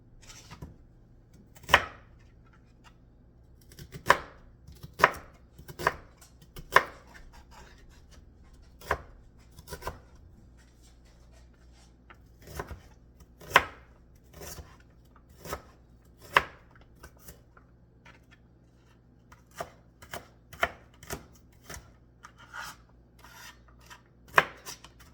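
Onions chopped with a knife on a cutting board, a long run of sharp, separate thuds at uneven pace, some in quick clusters, with no talking.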